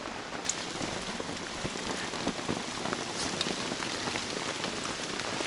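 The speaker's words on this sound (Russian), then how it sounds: "Дождь снова усилился" Heavy rain hammers steadily on a tent roof, a dense, continuous close patter of drops with no pauses, heard alone.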